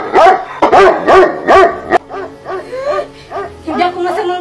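A dog barks loudly and repeatedly at close range in a rapid series of sharp barks and yips, with a voice speaking briefly between them.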